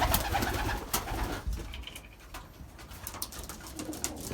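Young Belgian racing pigeons coo in a loft, several soft rolling calls repeating close by over a steady background of rustling and wing movement, with no talking.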